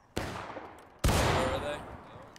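Gunfire in a video game battle during a group training event: two sharp, loud shots about a second apart, the second followed by a lingering rumbling tail, with faint background chatter.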